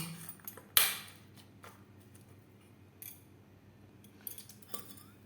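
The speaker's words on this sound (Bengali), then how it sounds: "ছোলা বেশ ভালো করে মেখে নেব।" A spoon mixes boiled chickpeas with tomato sauce in a bowl, giving a faint, sparse series of metallic clinks and taps, with one sharper knock near the start.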